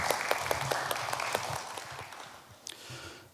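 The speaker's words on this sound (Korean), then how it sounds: "박수로 환영해 주시기 바랍니다." An audience at an academic conference claps to welcome a presenter. The applause is moderately loud with distinct individual claps at first, then thins out and fades as it ends.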